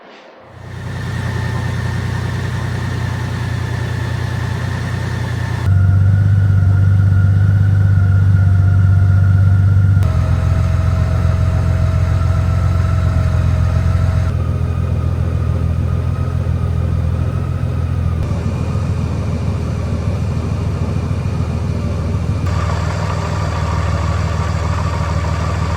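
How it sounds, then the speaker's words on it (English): A 2023 Honda Goldwing motorcycle engine starts and settles into a steady, smooth idle while warming up, a continuous close low rumble with slight shifts in tone over about twenty-five seconds. "warm the bike up and warm the oil"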